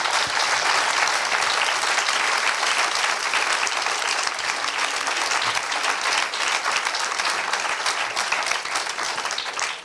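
Large audience at a cultural event applauding warmly for several seconds, a steady dense roar of clapping heard alone, fading slightly at the end.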